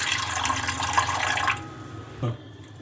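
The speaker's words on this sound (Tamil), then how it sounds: "தண்ணி ஊற்றுடலாம் தண்ணி ரொம்ப ஊற்ற வேணாம் கொஞ்சமாக ஊற்றினா போதும்" Water is poured into an idli steamer pot, a steady splashing stream that stops after about a second and a half, followed by a single metallic clunk.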